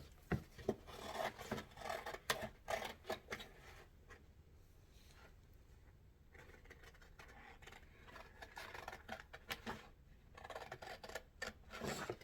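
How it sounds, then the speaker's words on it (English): Scissors cutting out a paper image of a diva: faint, close snips and rustling paper in irregular bursts, with a quieter pause in the middle before the cutting picks up again. "I'm going to cut the image of the diva. I'm going to cut that out."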